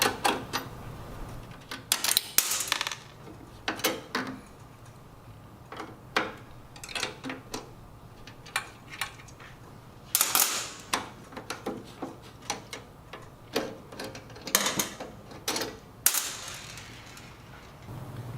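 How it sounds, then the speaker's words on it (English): Metal cap nuts, lock washers and Phillips screws being taken off the metal conduit retainer of a Star two-sided grill, heard as irregular sharp clicks and clinks in clusters, close, with quiet pauses between, no talk. "Remove 2 7/16" cap nuts, 2 lock washers, and 2 1/4-20 Phillips screws from the metal conduit retainer."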